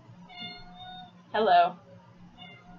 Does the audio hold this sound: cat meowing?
yes